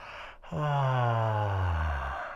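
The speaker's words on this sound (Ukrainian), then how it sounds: "Найкращий приклад, коли ви позіхаєте." A single long, drawn-out yawn: a short intake, then a loud open-throated voiced exhalation that slowly falls in pitch over about two seconds, heard close and alone.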